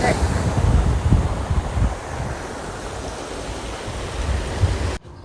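Sea waves washing up at the shore near a gate, a steady broadband rush with low surges and some wind buffeting the microphone, continuous throughout before cutting off abruptly at the end.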